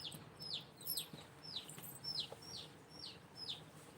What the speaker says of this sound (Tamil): குஞ்சு கத்துச்சிங்களா?